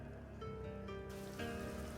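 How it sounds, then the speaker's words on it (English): Light rain falling on a battlefield in Shogun: Total War, a steady soft patter over game ambience, continuous with no voices. "Light rain."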